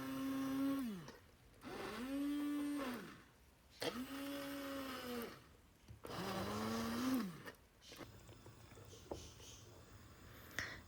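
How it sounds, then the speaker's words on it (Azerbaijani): A blender purees cooked quince for jam in repeated pulses, its motor whining up and down in four loud bursts with short pauses, then quieter clattering at the end. "altını söndürüb blenderdən keçirdirəm"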